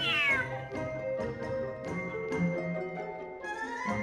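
A cat in Genshin Impact meows repeatedly, a drawn-out, wavering call followed by shorter mews over game background music, clear and close.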